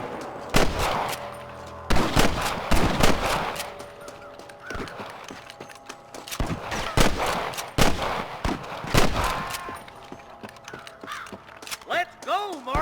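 Gunshots ring out in a shootout with snipers in Red Dead Redemption, sharp rifle cracks repeating at uneven intervals, loud and close, with game characters talking between shots and a crow-like caw near the end.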